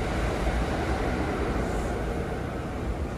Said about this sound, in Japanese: 電車が来たんですが、これ高安までしか行かないので、